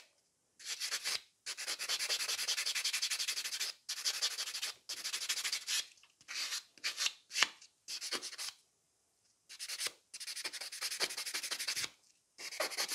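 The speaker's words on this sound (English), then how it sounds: "So the buffer is 100 by 180 grit, and it's an awesome buffer." A 100/180 grit nail buffer rubs over fingernails in close, steady back-and-forth strokes, a dry sanding scrape that comes in bursts of a second or two separated by short pauses.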